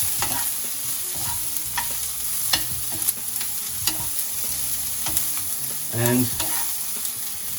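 Broccoli stir-fried and sautéed in a pan, a steady sizzle under repeated scraping and clattering strokes as the florets are pushed around, with a louder burst of frying near the end; a single brief word is spoken.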